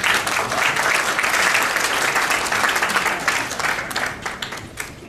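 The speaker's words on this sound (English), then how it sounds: "please welcome with a warm round of applause" A room full of people applauds, steady dense clapping that holds loud and then gradually thins toward the end.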